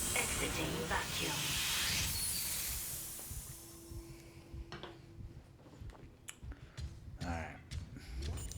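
Airlock in the Dead Space video game releasing pressure when exiting vacuum: a loud, broad hiss that swells for a few seconds then fades, followed by clanks, a low tonal hum and scattered mechanical clicks.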